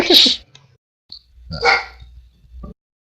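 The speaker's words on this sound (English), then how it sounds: "I hear a dog. That would be my annoying dog." A pet dog barking at home, two short sharp barks separated by a pause, heard faintly as if from another room during an online game session.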